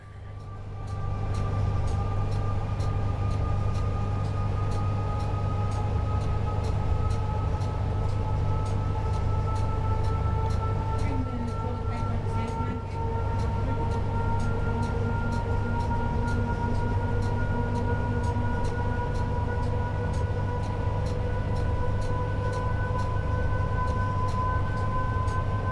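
Electric train on the West Coast Main Line between Preston and Carlisle in a snow storm, a tap changer locomotive in Train Sim World 5, pulling up to speed with a steady loud traction hum and rising motor whine, continuous throughout.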